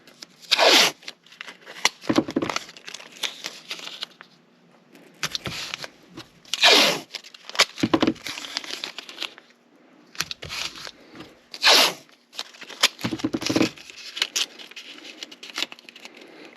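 Strips of blue tape are ripped from a roll and pressed onto an H&K 45 full-size pistol, sharp tearing zips recurring every few seconds with softer rubbing and patting between them, close and alone.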